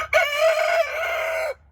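A cream legbar hen in a backyard flock lets out a single loud, drawn-out squawking call lasting over a second, close by, with faint background noise and no talking.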